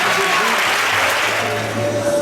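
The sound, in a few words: audience applauding in church service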